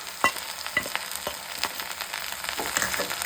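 Sliced okra and onion sautéing with turmeric and salt in a pan, a steady close sizzle broken by irregular scraping taps of a spoon stirring, with no voices.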